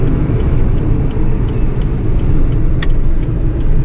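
A car drives through the streets of Gazipasa town in Turkey, a loud steady in-cabin engine and road rumble with faint ticking clicks on top, no talking.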